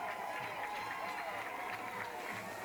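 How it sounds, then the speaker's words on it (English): A crowd at a high school regional final football game applauds the defense, distant and faint, a steady wash of clapping and crowd noise with no distinct individual claps. "And nice applause there for the Marion Local defense"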